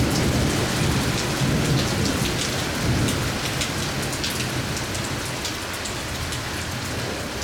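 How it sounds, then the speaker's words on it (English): A heavy rain deluge hammers down with rolling thunder as roof gutters overflow, a dense, loud, unbroken roar of water that continues steadily throughout with no talking. "So, just when you get that real deluge"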